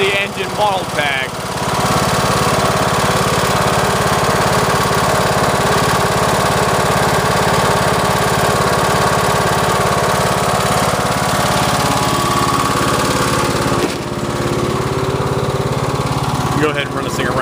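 A Cub Cadet LTX 1045 riding lawn mower engine runs steadily and loudly up close, a constant buzzing drone that dips briefly near the start and again toward the end; no talking over it.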